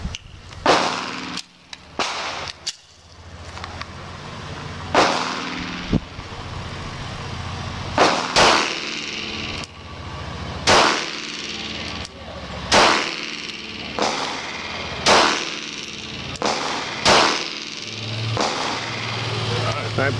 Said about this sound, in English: Now remember, I shot 5 shots.